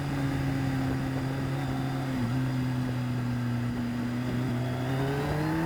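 A car on the Mallory race track pulls hard up through the gears, its engine note climbing steadily with a clear gear change partway through, loud and continuous with no one speaking.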